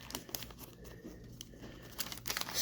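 1987 Donruss wax pack wrapper crinkling and ripping open close by, a quiet run of irregular crackles and short tearing bursts that grows busier toward the end.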